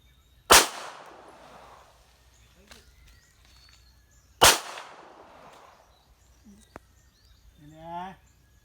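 Two loud, sharp gunshots from a real handgun ring out about four seconds apart, each with a decaying echo, followed by faint clicks and a brief voice-like sound near the end.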